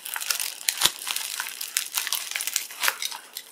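A knife cuts around and through packaging during an unboxing, with irregular crinkling and crunching of the material and a couple of sharp snaps, close up with no talking.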